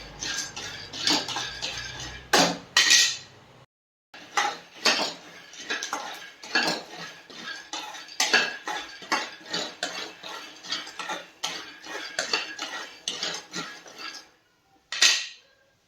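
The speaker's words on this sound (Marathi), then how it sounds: "शेंगदाणे पण असेच भाजून घ्यायचे आहेत" Peanuts dry-roast in a pan, stirred with repeated clattering scrapes and metallic clinks in uneven bursts, with a short pause partway through, close and moderately loud.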